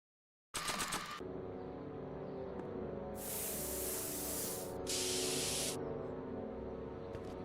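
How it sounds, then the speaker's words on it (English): Spray paint can hissing in the Back to the Future video game, several bursts of steady spraying with short gaps, loud and close with no talk. "Spray paint. Directions say to apply a thin coat and let dry."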